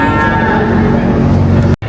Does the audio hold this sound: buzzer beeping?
no